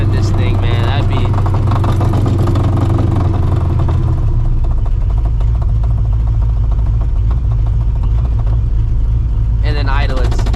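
A supercharged, Procharged New Edge Ford Mustang GT idling loudly and roughly, a steady low, pulsing rumble with clatter throughout, while people talk over it.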